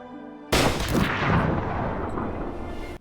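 A single sharp, loud gunshot cracks from an anime episode, followed by a long booming rumble and echo that slowly fades, with no one speaking over it.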